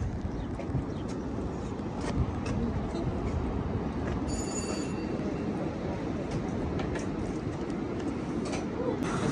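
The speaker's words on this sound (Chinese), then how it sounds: "现在10点半了，这个小火车可以坐啦" A small seaside tourist train runs with a continuous loud rumble and rattle of wheels on track, with brief high squeals and clicks over it.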